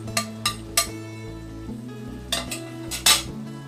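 A spoon stirs almonds, pistachios and cashews into water chestnut flour halwa in a pot, giving a few sharp metallic clinks and scrapes against the pan over a low background, with no voices.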